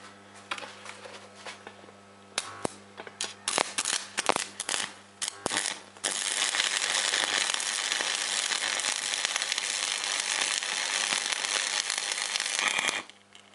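Arc welding on 1.2 mm thin steel held in a vise: sharp irregular crackles and pops at first, then a steady, loud, continuous buzzing crackle that runs unbroken for several seconds before stopping abruptly.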